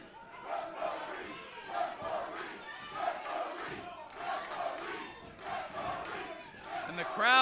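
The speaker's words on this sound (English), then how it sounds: "And the crowd now chanting for the referee" A wrestling crowd chants in rhythmic, repeated bursts for the referee, a roomy mass of voices rising and falling in regular waves, with occasional thuds beneath it.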